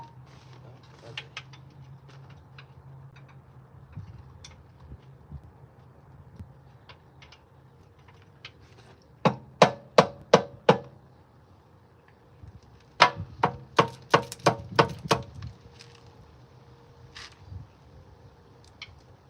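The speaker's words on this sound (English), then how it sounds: "Okay, I guess we're using the hammer." Sharp metallic hammer blows on parts of a worn Chevy 305 engine ring out in two quick bursts of about five strikes each, loud and close, with quiet background between.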